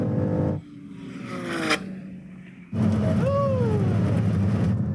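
A BMW M3 races a Ferrari on a runway, its engine roaring loudly up close and shifting pitch, dropping off briefly, then surging back with a rising whine and steady road roar.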